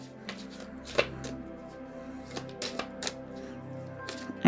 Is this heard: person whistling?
no